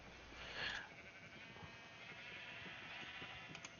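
Sheep bleats in a Minecraft-style video game, a short, clear bleat early on followed by quieter game ambience with faint clicks and movement; no talking.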